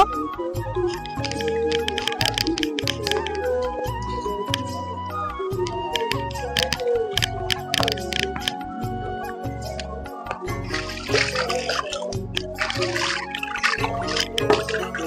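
Water drips, trickles and splashes as a fish hook is rinsed at a pond, a close, busy run of small wet splashes and dribbles with no talk over it.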